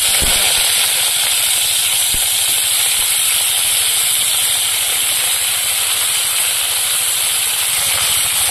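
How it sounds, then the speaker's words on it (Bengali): Eggplant frying in oil, a loud, dense and continuous hiss of sizzling heard close up, with faint low clatter beneath and no break. "বেগুনটা ভাজা করে নিচ্ছি"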